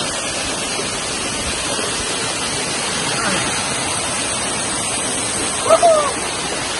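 Batlag Falls in Tanay, Rizal pours in a steady, dense roar of rushing water that stays constant throughout, with a faint voice briefly surfacing near the end.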